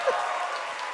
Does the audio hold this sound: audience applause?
yes